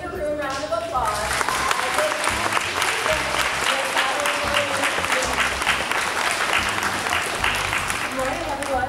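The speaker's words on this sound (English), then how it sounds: "please get Lauren and Victoria a big kangaroo round of applause." Elementary school audience gives a big round of applause at a morning assembly, loud continuous clapping from many hands lasting nearly nine seconds, with crowd noise mixed in.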